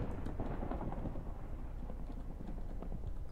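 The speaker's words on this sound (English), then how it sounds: "it's raining outside" Steady rain falls in a blocky sandbox-style video game world, a dense continuous wash of drops with low rumbling underneath, filling the scene evenly with no voices.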